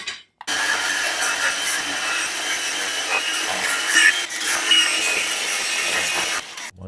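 Metal being cut beneath a 1941 Mercury custom car, a steady, loud grinding saw noise running continuously for several seconds with no talk.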